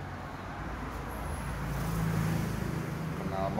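A 2012 Ducati Monster 1100 Evo motorcycle with an aftermarket exhaust rumbles at a low, steady idle, fairly faint and rising slightly in the middle.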